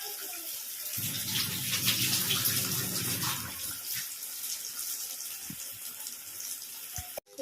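A mini Mughlai paratha is slid into hot oil in a wok and fries with a steady, rushing sizzle, loudest early on and then settling into a continuous bubbling hiss, ending with a brief clatter.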